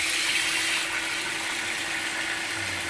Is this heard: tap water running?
yes